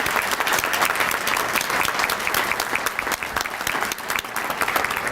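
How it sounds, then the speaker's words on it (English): A crowd at a breakfast event claps steadily in sustained applause, many hands together, loud and close, with no pause. "So I just want to give a quick round of applause to all our students here today."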